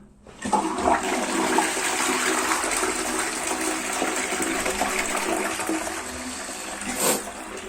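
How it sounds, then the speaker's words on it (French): A toilet flushing during descaling, a loud sudden rush of water that roars steadily for several seconds, then surges briefly before easing, with no talking. "On va tirer la chasse, je le fais devant vous."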